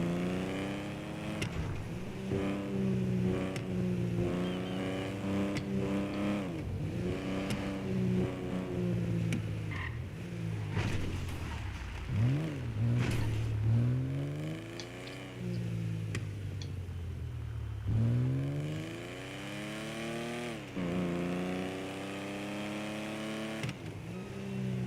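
A car engine in GTA 5 revs repeatedly, climbing and dropping in pitch through several gear pulls. The engine is close and loud throughout, with a few tick-like clicks between revs.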